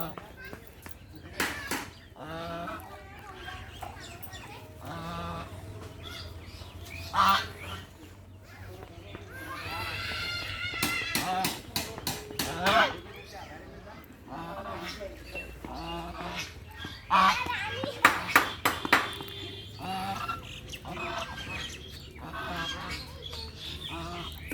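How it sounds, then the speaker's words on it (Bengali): Ducks beside a river give repeated loud honking and quacking calls in scattered bursts, close by, while children and adults talk over and between them. "তোমরা কি হাঁস ধরতেছ?"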